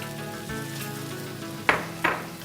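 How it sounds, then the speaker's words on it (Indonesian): Rice being stir-fried with curry powder for nasi kebuli, a soft continuous sizzle under a faint hum, broken by two sharp scraping stirs near the end, close by with no talking. "Kita aduk sebentar."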